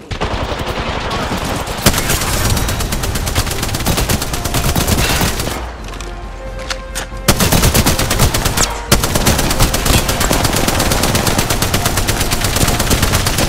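Sustained automatic gunfire in the battle royale shooter Apex Legends, a dense loud rattle of rapid shots running almost continuously, with a brief drop around the middle before heavy firing resumes.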